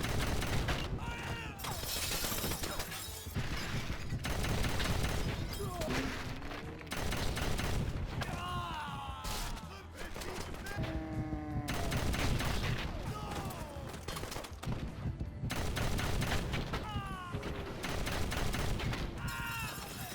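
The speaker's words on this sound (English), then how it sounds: "Here you will be treated to some stylized action along with aiming your gun, shooting at enemies, and hitting enemy bullets before they get to you." Dense, rapid gunfire rattles through a stylized action shootout in the video game Wanted: Weapons of Fate, with bursts, booms and whizzing bullet effects layered over a game soundtrack, continuous and busy throughout.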